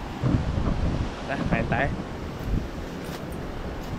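Strong, constant wind buffets the microphone at a beach camp in Real, Quezon, a steady rushing roar throughout, with a person talking briefly over it.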